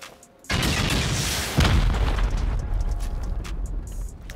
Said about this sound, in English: So we're going to send four rockets here and see what happens.